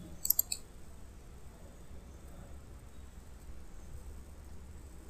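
A computer mouse gives a quick burst of three or four clicks at the start and one more click at the end, close and crisp over a quiet room hiss, with no talking.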